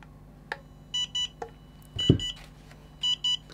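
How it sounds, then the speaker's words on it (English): A BetaFPV LiteRadio 2 SE radio controller in setup mode gives short, faint electronic beeps in paired bursts over a quiet room hum, with a soft handling knock in the middle. "controller is now beeping"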